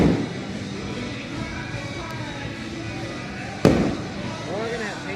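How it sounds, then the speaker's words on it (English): Fireworks exploding over a baseball game, with a continuous rumble of bursts and crackles, a sharp loud boom near the end, and spectators talking and music playing throughout. "it's fireworks"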